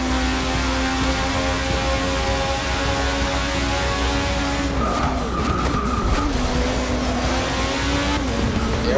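A race car in the Forza Motorsport 6 racing game brakes hard and skids, its tires squealing loudly over a steady droning engine that keeps running throughout.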